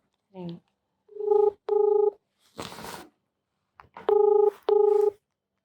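A telephone rings while the caller waits for someone to pick up: two pairs of loud electronic ring tones with a brief noisy burst between them and a short sound before.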